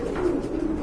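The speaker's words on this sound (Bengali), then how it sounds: "আরেক জোড়া কবুতর দেখতে পাচ্ছেন" A pair of pigeons for sale gives a brief, close, low coo lasting under a second, alone with no talk.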